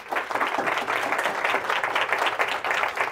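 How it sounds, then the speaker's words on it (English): Audience applause for panelists at the close of a live digital-opportunities event, steady dense clapping throughout at moderate loudness with a faint voice underneath. "They deserve a round of applause."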